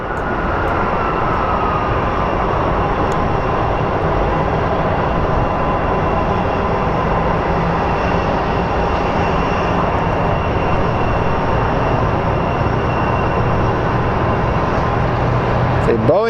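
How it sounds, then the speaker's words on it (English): An Alaska Airlines Boeing 737 MAX 9 arrives from Seattle at Phoenix Sky Harbor, its jet roar a loud, steady broadband rumble lasting throughout, with a voice talking faintly beneath it. "here comes our Alaska Airlines coming in from Seattle"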